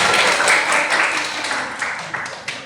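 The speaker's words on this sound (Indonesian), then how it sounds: "Tepuk tangan untuk semuanya." Applause from a classroom group during a microteaching practice session, a dense steady patter of many hands clapping for about three seconds, fairly close and loud, fading slightly toward the end.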